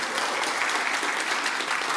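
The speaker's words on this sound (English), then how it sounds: "Save the applause for after the talk" Dense, continuous applause from a conference audience at a tech talk, a loud even wash of many hands clapping with no pauses, filling the whole moment without voices.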